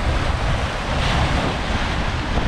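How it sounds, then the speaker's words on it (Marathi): Rough, churning sea waves surge continuously along the coast at Kunkeshwar, Devgad, a loud, dense roar mixed with wind buffeting the microphone and no voices. "समुद्र बघा काय खवळलं आहे"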